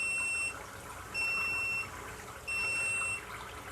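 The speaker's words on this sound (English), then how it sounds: "does have quite a loud audible alarm" A protein skimmer's float sensor alarm sounds in three loud, steady electronic beeps, each about half a second long with short gaps, over a soft trickle of aquarium water.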